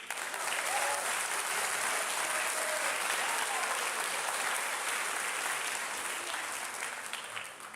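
A full audience at a high school orchestra senior concert claps steadily for several seconds, a dense, continuous roar of hands at moderate loudness with faint voices underneath, easing slightly at the close.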